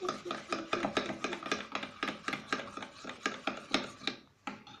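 A spatula stirring slime in a bowl, giving quick, rhythmic scraping and squelching strokes, close up and steady, with no talk over it.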